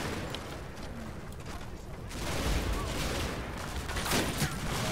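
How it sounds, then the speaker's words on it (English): Gunfire in the World War II hedgerow combat game Combat Mission, a dense, continuous crackle of distant small-arms shots that grows louder partway through, with no voices. "Shooting up the Tommies over there."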